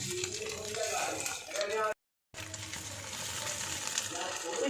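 Eggs frying as omelettes in refined oil give a steady crackling sizzle close by, with someone talking over it and a brief dropout partway through.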